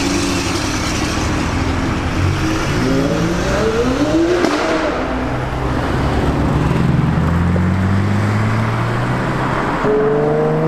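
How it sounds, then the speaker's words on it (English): A Ferrari LaFerrari Aperta engine roars past on Park Lane with rising and falling revs, a loud pass-by over steady street noise, the pitch sweeping as it approaches and recedes. "the car that just drove past here on Park Lane is of course the Ferrari LaFerrari Aperta"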